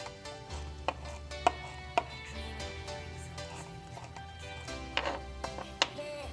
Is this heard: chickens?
no